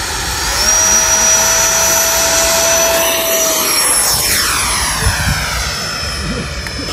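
A radio-controlled Freewing T33 80mm electric ducted-fan jet on a 6S battery taking off, a loud continuous high-pitched fan whine with pitch sweeps as it passes overhead and then pulls away, steady and close throughout.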